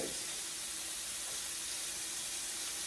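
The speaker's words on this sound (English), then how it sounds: "You hear that sizzle?" Steady, bright hissing sizzle of shrimp frying in a pan, continuous and fairly close, with no talking.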